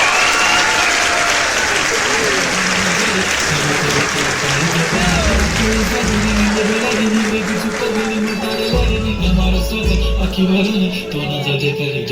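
An audience at a folk dance competition at a festival in Addur, Guhagar bursts into loud, sustained clapping that carries on steadily for several seconds.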